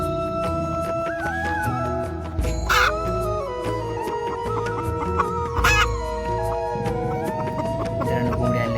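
A hen clucking repeatedly on a village farm where a broody hen sits on eggs, fairly close and clear, with other fowl calls and steady background noise.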